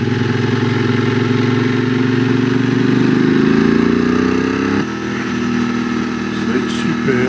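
A QJ SRT600SX motorcycle engine runs while riding a Pyrenees mountain road, a steady droning hum that rises in pitch then drops abruptly around a gear change, loud and close, with a voice briefly over it.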